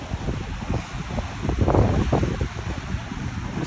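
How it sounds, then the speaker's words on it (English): Wind blowing outdoors in falling snow on a cold Colorado street, a close, gusty rush and buffeting against the microphone, swelling in the middle and easing again. "It's snowing, the wind's blowing pretty good."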